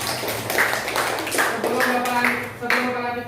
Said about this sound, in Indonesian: Oke, tepuk tangan buat kandidatun dulu.